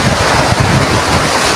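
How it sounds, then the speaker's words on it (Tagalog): Ocean surf crashes close by in a brief, continuous roar of breaking waves, with wind buffeting the microphone. "Nalalaki ng hampas ng alon."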